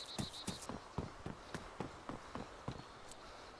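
Footsteps in the survival game DayZ: a quick, regular run of about a dozen sharp crunching steps, moderately close and steady in rhythm, with no talking over them.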